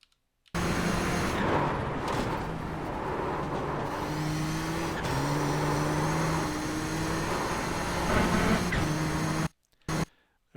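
Nissan GTP ZX-T race car in iRacing threading the Monza chicane, its steady engine drone dropping and stepping through gear changes under braking and turn-in, then cutting out abruptly near the end with a couple of brief bursts.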